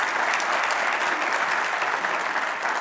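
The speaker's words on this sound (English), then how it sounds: "Let's give her a virtual round of applause." Sustained applause from an audience for a speaker at an event, dense steady clapping with no breaks, loud and fairly close.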